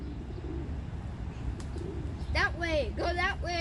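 Pigeons cooing in a park while being fed, with soft coos and a few chirps over a steady outdoor background as a person speaks nearby.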